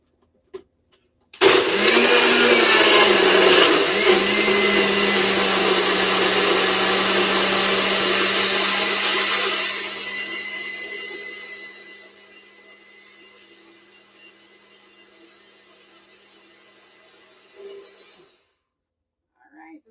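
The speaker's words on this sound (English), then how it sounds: "So let's blend away." A countertop blender whirs loudly while blending a vegan drink, a steady motor roar that eases to a quieter spin partway through before cutting off near the end.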